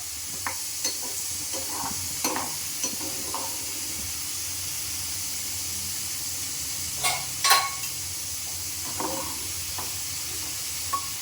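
Raisins sizzle and fry in hot coconut oil while being stirred for a beef biryani, with a steady crackling hiss and a few sharper scraping stirs, fairly close.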